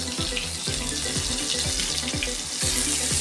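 Fish being rinsed under a running tap, a steady close rush of water with irregular splashing and knocking as the pieces are handled, continuous and fairly loud throughout with no talking.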